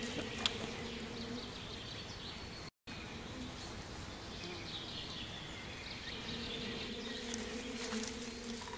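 Honey bees buzzing around their hives in a wild Russian valley, a steady continuous drone close by with a faint higher insect whine, unbroken except for one brief dropout.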